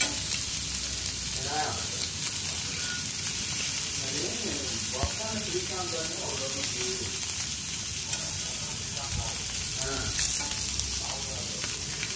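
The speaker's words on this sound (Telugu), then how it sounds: "ఇప్పుడు ఒక పక్క కాలిన తర్వాత ఇలా మనం అట్ల కాడతో అయితే ఇంకో పక్కకైతే చేప ముక్కను తిప్పుకోవాలి" Fish pieces fry in a pan after being flipped with a flat spatula, making a steady close-up sizzle that runs the whole time with small crackles and faint background voices.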